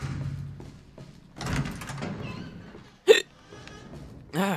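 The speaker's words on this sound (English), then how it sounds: "friggin' hiccups" A single sharp hiccup bursts out abruptly in the middle, short and loud against a quieter background of muffled shuffling and room noise.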